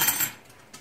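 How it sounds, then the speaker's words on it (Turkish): A metal spoon clinks against a pot of milk twice in quick succession at the start, bright and close, then fades to quiet. "Metal kaşık koyduğum içine."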